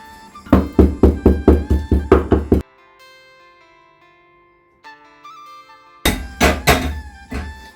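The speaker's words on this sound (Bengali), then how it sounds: "এখান থেকে ওই কয়টা গোলমরিচ এখানে একটু এই হামান দিশটাতে একটু গুঁড়ো করে নেবো" Black peppercorns are pounded in a mortar and pestle in two bursts of sharp, rhythmic knocks, about eight strikes and then a few more, with ringing metallic tones trailing off in the quiet pause between them.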